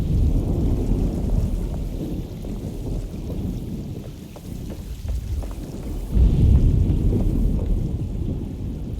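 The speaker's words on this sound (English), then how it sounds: "Looks like a storm's coming." Thunderstorm in the Alone in the Dark game, with steady heavy rain and a deep rolling thunder rumble that swells again toward the end, no voices.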